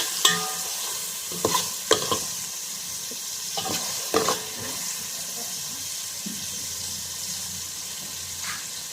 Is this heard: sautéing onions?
yes